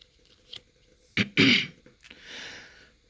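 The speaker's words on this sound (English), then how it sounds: "I'm clearing my throat." A person clears their throat in a few short, rough bursts up close, the loudest pair coming in quick succession midway, followed by a softer breathy exhale.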